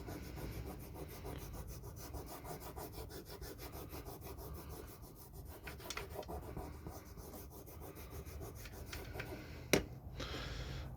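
Oil being rubbed into a carved green-wood spoon with kolrosed decoration, a steady close scratchy rubbing with rapid repeated strokes throughout and one sharp tap near the end.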